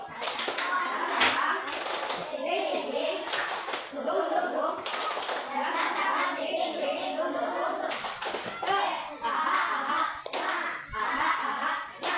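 Young children in a classroom clap through a rhythmic clapping game, bursts of sharp hand claps that come in clusters and pauses, mixed with children's and a teacher's voices throughout.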